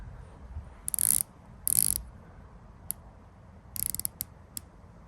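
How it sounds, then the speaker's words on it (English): Rotating bezel on a Tidlös Marin 500 dive watch turned in short bursts of rapid ratcheting clicks, close and crisp, with a few single clicks between quiet pauses. "Let's check out the bezel action."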